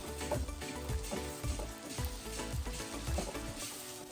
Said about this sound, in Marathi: आता आपण अद्रक लसणच्या पेस्टला आपण चांगलं तेलामध्ये फ्राय करून घेऊया